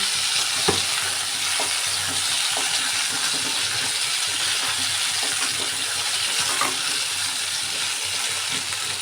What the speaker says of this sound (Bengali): এদিকে আলুটা ভেজে নিচ্ছি তাড়াতাড়ি হয়ে যাবে সেই কারণে